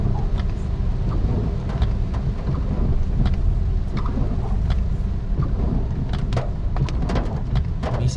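Steady rain during Typhoon Enteng in Montalban, Rodriguez, Rizal, a dense continuous wash with scattered drop impacts and low rumble throughout, fairly loud and with no talking.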